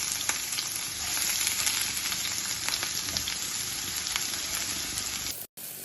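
Three small chopped onions and coconut pieces fry in hot oil after mustard seeds, for a Kerala-style spicy pork roast; a steady, close crackling sizzle runs throughout with no talk, cutting off briefly near the end.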